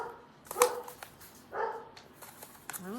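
A pet guard dog named Millie barks indoors in a quiet home, giving a few separate sharp barks at moderate distance with pauses between them and a faint whine near the end.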